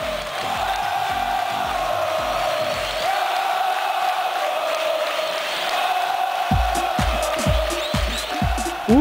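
Football fans of Ceará celebrating in the Arena Castelão stadium, a huge roaring crowd of cheers and shouts, with rhythmic drum-like thumps at the start and again near the end.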